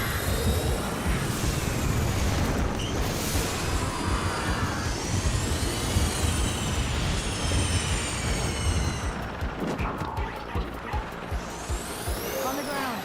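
Loud roaring engine noise from VTOL aircraft in the video game Mirror's Edge Catalyst, a steady broad rumble lasting throughout with sweeping whining tones overhead and a brief sharp burst near the end, with voices talking over it.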